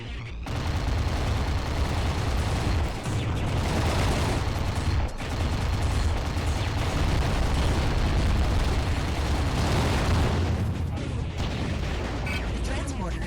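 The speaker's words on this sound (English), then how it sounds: "this has secondary fire instead of zoom" Underwater weapon secondary fire in the AquaNox game, a dense sustained barrage of booming blasts and rumbling explosions that runs loud and continuous, with a brief dip and occasional sharper cracks.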